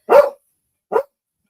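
Two sharp dog barks close by, a louder one followed by a shorter one after a brief pause.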